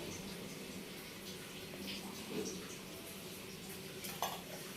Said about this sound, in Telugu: పచ్చిమిరపకాయలు వేయించుకుంటున్నాము.